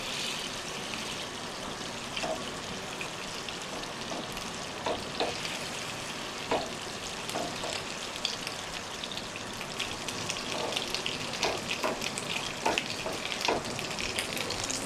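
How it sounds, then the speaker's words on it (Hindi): Meat pieces for pasanda fry over low heat in a steady, dense sizzle with occasional pops and crackles, close and continuous throughout with no talk. "अब इन्हें हल्की आंच पे फ्राई करना है कि इनका रंग चेंज हो जाए"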